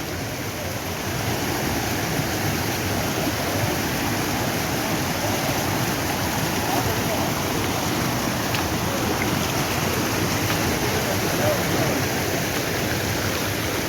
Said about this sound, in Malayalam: അത് സൂപ്പർ വെള്ളച്ചാട്ടമാണ് കേട്ടോ അടിപൊളി വെള്ളച്ചാട്ടമാണ്